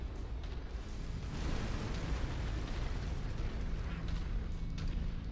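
A giant mech exploding in MechWarrior 5: Mercenaries, a sustained roaring blast with crackling debris and rumbling that stays loud throughout, with faint voices underneath.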